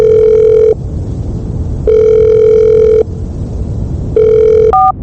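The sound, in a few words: telephone ringing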